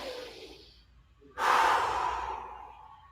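A single deep breath during a yoga session: a soft, airy intake swells into a strong, close exhale lasting well over a second before fading, heard alone without talk.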